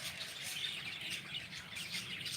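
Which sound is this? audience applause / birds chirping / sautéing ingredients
birds chirping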